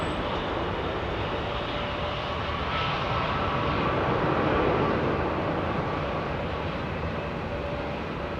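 An EgyptAir Boeing 737 jet at London Heathrow gives a steady, broad engine roar that holds at an even, moderate level from start to finish, with no voices over it.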